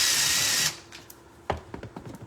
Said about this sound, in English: I'm just going to drill it the best I can and see what happens.